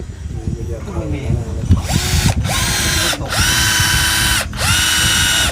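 A handheld drill for boring into concrete whirs in repeated high-pitched bursts with brief pauses between, close and loud, while people talk quietly under the opening.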